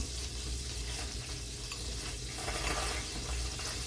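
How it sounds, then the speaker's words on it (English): Butter and oil sizzling in a frying pan with garlic and cracked pepper, a dense, steady crackling fry heard up close and alone throughout. "As you can hear, our butter and oil."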